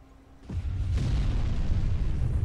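Artillery in the Factorio video game fires with a sudden low boom, then a second heavier blast follows and a dense rumbling roar of explosions continues loudly to the end.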